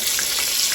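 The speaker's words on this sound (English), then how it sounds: "Here are potatoes cooking." Potatoes cook in a pan with a steady, close hiss of hot oil and fine crackling throughout, with no voices.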